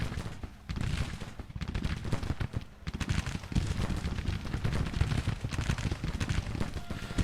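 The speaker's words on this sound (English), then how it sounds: "There goes the artillery, launching canister into those brigades in front." Cannon fire and massed gunfire in a Civil War strategy battle, with artillery firing canister into infantry brigades: a dense, continuous roar of overlapping loud shots and booms with a brief lull near the middle.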